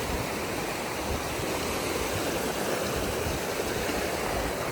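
McArthur-Burney Falls, a waterfall spilling into a pool of blue water, a steady broadband roar of falling water that holds constant throughout with no voices.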